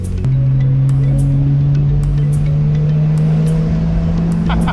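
Porsche 911 convertible cruising with the top down, a loud steady engine drone with a sustained low tone and wind rush, plus faint clicks and taps from the cabin.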